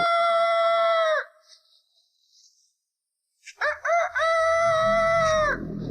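A rooster crows loudly and close, one long ringing cock-a-doodle-doo, then after a short quiet gap a second crow, with low rumbling noise underneath at the end, in a Hong Kong horror film scene.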